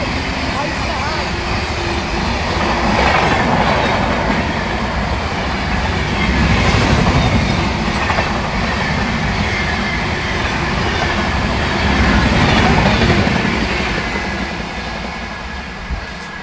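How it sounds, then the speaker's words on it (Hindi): An Indian Railways Valsad–Vadnagar Intercity Express passes at a crossing, a steady loud rumble of wheels and carriages with rhythmic clatter rising and falling as coaches roll by, continuous for the whole stretch. "यहाँ से आ रही है वलसाड वडनगर इंटरसिटी एक्सप्रेस।"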